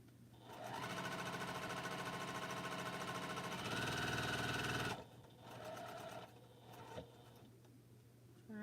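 A sewing machine stitches a quilt with a loud, steady mechanical whir that stops abruptly partway through, then resumes in shorter, quieter bursts.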